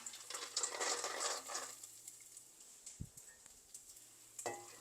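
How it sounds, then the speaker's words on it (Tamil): Urad dal and peanuts fry in oil for lemon rice, with a soft crackling sizzle and a few faint spoon taps against the pan, quiet and close, with no talking. "இது எல்லாம் கொஞ்சம் நல்லா பொரியட்டும்"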